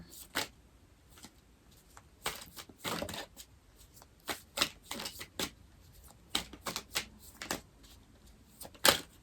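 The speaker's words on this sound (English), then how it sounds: "I'm going to try to pull 3 cards here for potential." A deck of tarot cards being shuffled and pulled during a reading, with irregular bursts of crisp riffling and slapping, close and clear, with brief pauses between bursts and no speech.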